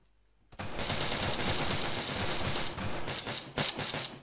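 Sustained automatic gunfire in the military shooter Arma 3, with a dense rattling stream of rapid shots that starts abruptly, stays loud and close, then breaks into short bursts near the end.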